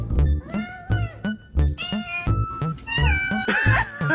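A cat meows repeatedly and insistently, a rapid run of close, loud, wavering cries with some complaining caterwaul-like calls, without any talk.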